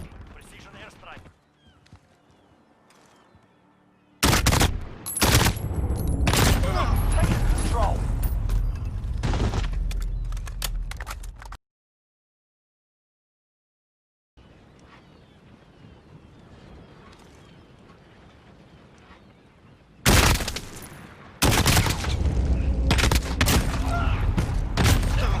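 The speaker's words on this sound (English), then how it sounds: "Here's a little test to see how many shots are going to be needed to kill." AK-47 and SCAR gunfire in Modern Warfare: loud, dense bursts of rapid automatic shots in several separated strings, with a sudden silent gap partway through and a voice talking over some of the firing.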